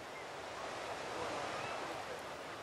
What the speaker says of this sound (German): Von hier aus sind es nur ein paar Schritte zum Meer.